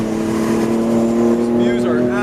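A tuned Stage 2 BMW F80 M3, rear-wheel drive, driven fast through turns, its engine holding a steady loud drone throughout with a voice talking over it.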